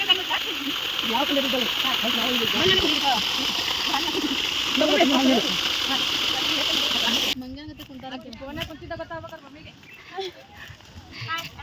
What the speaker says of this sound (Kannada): ಬೋರ್ವೆಲ್ ಅಂತಾರೆ ನೋಡ್ರಿ ಇವಾಗ ನೀರ್ ಬರ್ತದ